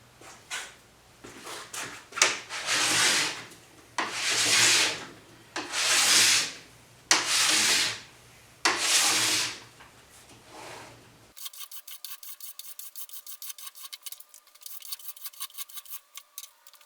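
A plastic scraper rasps hot wax off a snowboard base in several long, steady strokes close by, followed by a quieter stretch of fine, rapid ticking scrapes.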